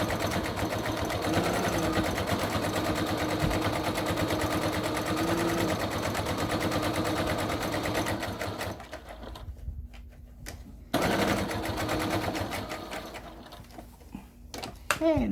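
A sewing machine runs close and steady while stitching an armchair caddy, a continuous rapid chatter that slows and stops briefly, then starts up again for a shorter run.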